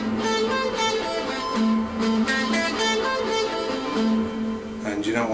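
Electric guitar sweep-picked arpeggios played with small gaps between the notes, a quick repeating run of separated, slightly choppy notes, loud and alone without talk.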